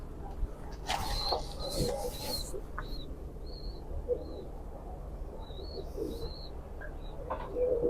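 Pigeons cooing in a loft with a young male bird nearby, soft low coos repeating under faint chirps and a few brief rustling sounds.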